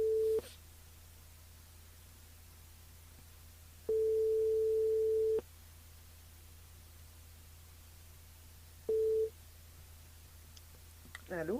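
A telephone line rings out during a live French radio broadcast, sounding as steady electronic tones in separate bursts, one long and one short, over a faint hiss, close and clear.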